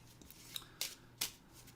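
Playing cards being shuffled by hand in a quiet room, a few soft riffling rubs followed by two sharp brief snaps of the deck.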